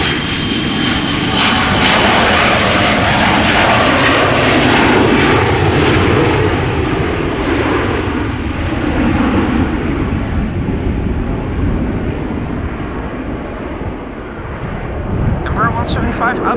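An Airbus A380 and other jets roar on the Alsmeerbaan runway at Schiphol Airport, a loud, broad engine rumble that swells and slowly fades, with wind buffeting the microphone.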